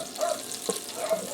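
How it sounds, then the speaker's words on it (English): Butter melts in a pressure cooker on the saute setting, giving a soft, steady sizzle with faint crackles over a short stretch, quiet and with no talking. "I'm going to melt my butter down in here."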